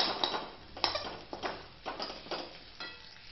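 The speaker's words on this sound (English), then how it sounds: "Mash it in the pan itself." A masher clinks and taps against a pan while boiled potatoes are mashed for aloo bonda (batata vada), giving about seven irregular metallic knocks at close range with a soft squish between them.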